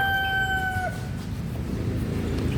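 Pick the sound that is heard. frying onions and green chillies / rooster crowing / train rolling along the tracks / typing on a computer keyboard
rooster crowing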